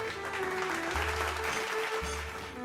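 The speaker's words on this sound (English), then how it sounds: "Let's give them a round of applause." Applause from an event crowd honouring the organizers, a soft, steady patter of clapping under sustained low tonal music.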